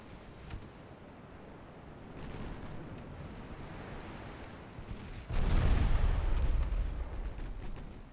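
A torpedo strikes an enemy destroyer in the naval game Ultimate Admiral Dreadnoughts, set in a 1955 Ottoman campaign, bringing a deep rumbling blast and surge of churning water that swells loud over a background of sea and wind.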